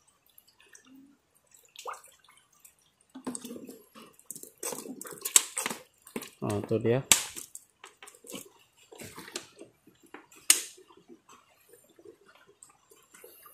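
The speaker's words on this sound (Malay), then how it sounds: "So kita tuang air sehingga ada air memancut pada bagian pipe water pump tuh." Water spurts and splashes from an engine's water pump pipe as coolant water is poured in to bleed air after a flush or thermostat replacement. Irregular bursts and drips fall between quiet gaps, with a brief spoken exclamation.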